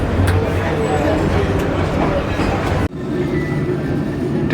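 The Tista Express rolls slowly past Tejgaon at about 30 km/h, a steady close rumble of carriages with a brief break midway and people talking over it.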